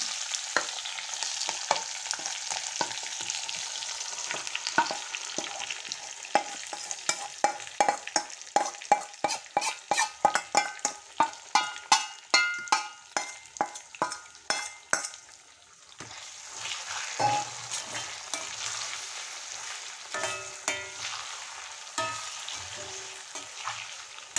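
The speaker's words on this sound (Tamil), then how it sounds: "இதிலேயே நல்லா ஃப்ரை பண்ணிகிட்டே வரலாங்க" Chicken fries with curry leaves and pepper in a pan, a steady sizzle under a run of sharp, rhythmic stirring scrapes that quicken and then stop, leaving a softer bubbling frying sound alone.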